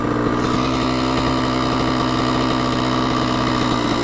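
A stock Banshee 350 quad or stock CR125R two-stroke idles on pavement before a first-gear roll-on, giving a steady, close, mid-pitched rumble that holds evenly throughout with no talk.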